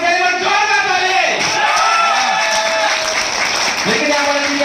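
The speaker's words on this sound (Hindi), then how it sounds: "जोरदार ताली" An audience at an MLM leadership training seminar breaks into loud, sustained applause with shouts and cheers, filling the whole stretch without pause.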